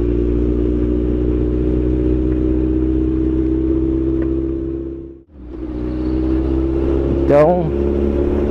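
A Suzuki Bandit 1250 motorcycle engine idles with a deep, steady hum, then gives one short rising rev near the end. Someone briefly speaks over it.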